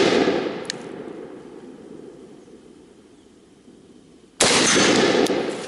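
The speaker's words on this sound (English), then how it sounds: "This is a perfect opportunity for a prone shot." Two sharp rifle shots fired from a prone position outdoors through grass, each a loud crack followed by a long fading echo, spaced several seconds apart with no voices.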